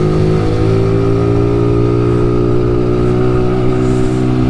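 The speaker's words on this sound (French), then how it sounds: "il y a un peu des voitures, un peu des motos, il y a un peu de tout" Engine noise from cars and motorcycles on the Col de l'Espigoulier mountain road, a loud, steady droning hum with a sustained revving tone filling the whole stretch.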